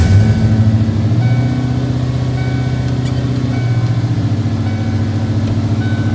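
Ford F150 truck engine idling steadily after start-up, a loud, even low rumble that holds throughout with a slight drop in level early on.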